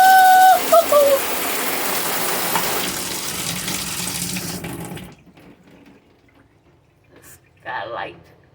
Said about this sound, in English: Good water. Good flow water.